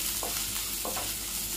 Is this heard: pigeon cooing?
no